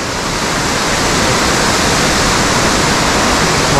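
A waterfall at Tiger Leaping Gorge roars loudly and continuously, a dense, even wash of falling water filling the whole clip without voices.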